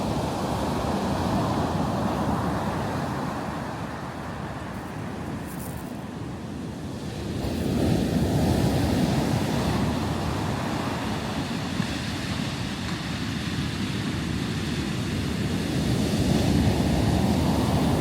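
Surf breaking on a stony, grainy beach in Iceland, a steady broad wash of waves with wind rumbling across the microphone, swelling louder midway and again near the end, with no one talking.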